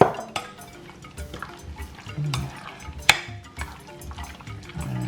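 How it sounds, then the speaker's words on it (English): Homemade onion and pepper sauce is poured into seasoned beef, giving wet, sloshing liquid sounds with a couple of sharp clinks against the dish, close and moderately loud. "And now I'm going to add the onion and pepper sauce that I make."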